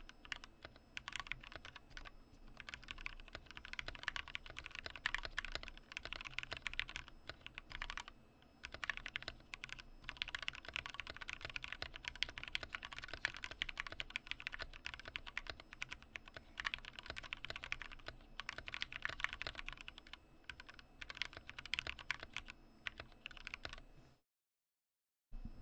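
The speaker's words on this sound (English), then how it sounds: "I'm not used to typing on these." Rapid, continuous clacking of keys on a computer keyboard, close and steady for over twenty seconds with brief pauses, then stopping abruptly near the end.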